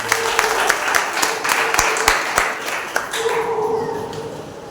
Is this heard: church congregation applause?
yes